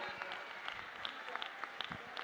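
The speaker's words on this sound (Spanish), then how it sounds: "Un fuerte aplauso." An audience at a political rally claps in a faint, steady patter of many hands, heard from a distance for about two seconds.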